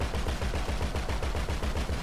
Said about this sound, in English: I'll shoot the people that you want.